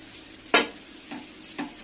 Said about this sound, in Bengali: প্রথমে আমি ডিমগুলো সেদ্ধ করে লাল লাল করে ভেজে নিচ্ছি।